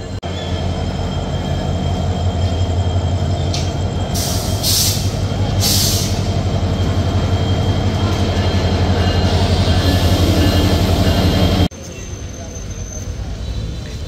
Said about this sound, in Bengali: এবার লোকোমোটিভটি সামনে নিয়ে যায়, আবার শান্টিং করা হবে